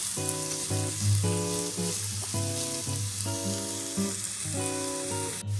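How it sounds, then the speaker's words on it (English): Onion sautés in heated olive oil for a baked ziti, a continuous soft sizzle under repeated pitched tonal bursts from another source. "add in our onion. You want to allow that to saute for 2 minutes"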